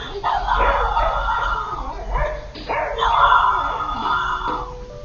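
A dog barks and howls in long, agitated bursts, loud and close, with whimpering yips between the drawn-out calls and a faint voice in the background.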